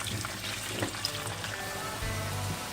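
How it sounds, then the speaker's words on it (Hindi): Potatoes fry in oil over a high flame, a steady close sizzle broken by light scraping and clinking as they are stirred now and then. "तेज आंच पर ही करना है। थोड़ी थोड़ी देर में चलाते रहेंगे।"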